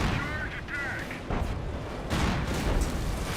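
Rocket artillery barrage explosions in Company of Heroes roll on as a continuous rumble of blasts and impacts, with a whistling rocket sound at the start, all under a commentator's voice.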